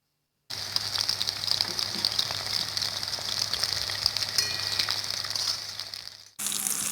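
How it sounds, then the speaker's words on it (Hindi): Chicken pakora frying in hot oil over medium heat, giving a steady, close hiss and crackle that runs unbroken for several seconds before a brief cut, then resumes. "दरमियानी आंच के ऊपर इसको फ्राई कीजिएगा।"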